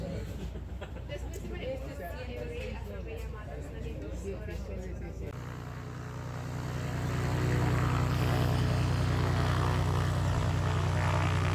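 Propeller airplane on a sightseeing flight over the Nazca Lines in Peru, a steady cabin drone that rises and deepens into a loud, constant engine roar partway through.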